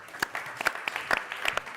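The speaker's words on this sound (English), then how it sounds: "Let's give her a round of applause." An audience at a generative AI summit applauds to welcome a speaker, giving a short burst of scattered claps that sound fairly close and rather sparse.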